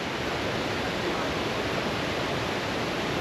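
A waterfall beside a hiking trail in the Smoky Mountains gives off a steady, even rush of falling water, a constant broadband hiss heard alone with no talk.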